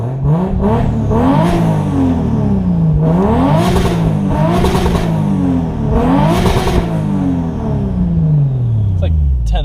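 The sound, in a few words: Toyota JZX100 Chaser engine revving at rev limiter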